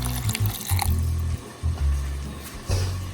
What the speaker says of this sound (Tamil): 1/2 கப் தண்ணி ஊற்றி அரைச்சிடலாம்.